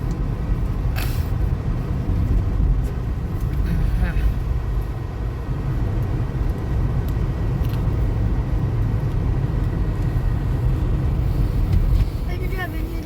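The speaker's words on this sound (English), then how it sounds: "Check this traffic." Continuous low rumble of cars and road traffic from within a vehicle on a busy road, steady and fairly loud for the whole stretch, with a few faint sharper sounds over it.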